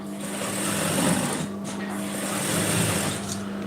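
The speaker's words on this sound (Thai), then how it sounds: "ตรงรักแร้เย็บสุดเลยค่ะ" A sewing machine runs continuously while stitching a sleeveless round-neck blouse, a close, steady buzzing hum with slight variations in speed throughout.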